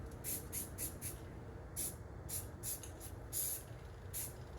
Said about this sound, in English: As you can tell by the sound of the can, there's literally barely enough to spritz it.